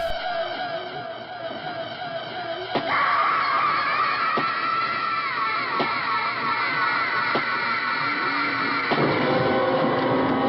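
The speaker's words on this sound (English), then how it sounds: "Wow, she screams in reverb." A woman in a horror film screams with heavy reverb, one long sustained high scream that swells and continues under a dense, constant noisy soundtrack.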